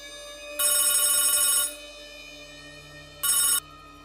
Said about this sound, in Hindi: अगले दिन सुबह मुझे राहुल का फोन आया।